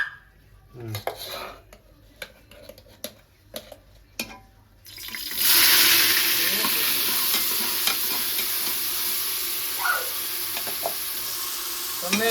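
Onion paste hits hot oil in a pan with a sudden loud, steady sizzle that carries on for several seconds, following a run of utensil clinks and taps against the cookware.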